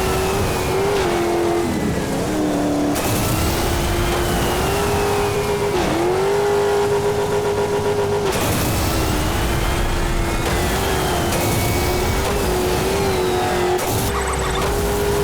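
Racing vehicle engines in the off-road racing game Motorstorm Monument Valley roar continuously with loud revving, pitch rising and dropping through gear shifts, with occasional tire squeal and no talk over it.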